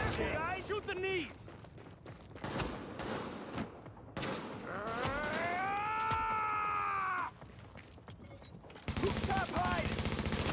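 Rapid gunfire in The Division as players shoot at enemies' knees: bursts of automatic shots and single cracks mixed with loud in-game effects, while people talk and shout over the action.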